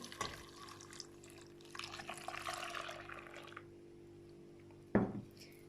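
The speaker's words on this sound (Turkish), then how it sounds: "un, kakao, sütümü ilave ediyorum." Milk poured into a bowl of flour, sugar and cocoa while cooking, a soft liquid splash and trickle, then a brief knock of a utensil against the dish near the end.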